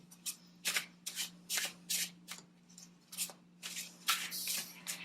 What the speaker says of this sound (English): Shuffling cards does that for me.